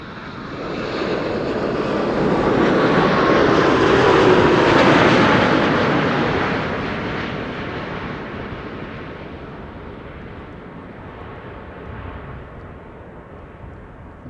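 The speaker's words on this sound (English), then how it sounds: "That's a 787-10 Dreamliner." A KLM Boeing 787-10 Dreamliner on arrival at Amsterdam Schiphol on a sunny morning, its broad jet roar swelling to a loud peak as it passes close, then slowly fading into a distant rumble.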